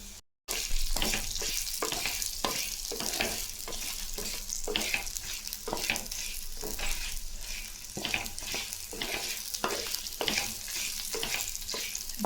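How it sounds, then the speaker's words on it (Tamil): Shallots and dried chillies sauté in a pan over a low flame, a continuous close sizzle broken by regular scraping stirs of a spoon against the pan, with no talking. "தீ கம்மி தீ வச்சு வதக்குங்க இதெல்லாம் கருகிறது மிளகாயெல்லாம் கருத்துடும்"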